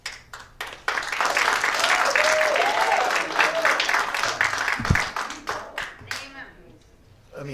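An audience claps at a recorded session: a full burst of applause that holds for several seconds, then thins into scattered claps and fades away.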